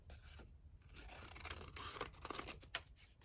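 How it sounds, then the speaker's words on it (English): Scissors cutting through refolded paper scraps, a quiet close scraping and snipping sound with a few soft cuts. "I'm just going to cut it down here"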